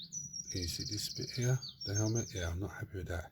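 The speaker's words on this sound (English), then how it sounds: "Sorry about the birds chirping away in the background." Birds chirp faintly and repeatedly in the background of an indoor spot where someone speaks close up through most of the clip.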